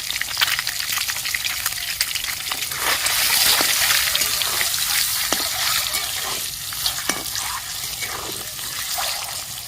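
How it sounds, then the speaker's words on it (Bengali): Eggs seasoned with salt and turmeric sizzle and fry in a pan for egg pulao, a steady close crackle with occasional sharper pops and stirring scrapes throughout, no voices. "ডিম ভাজা হয়ে গেছে"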